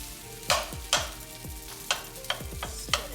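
A metal spoon or spatula mixes fried rice in a pan, striking the metal several times with bright clinks and scrapes over a faint sizzle.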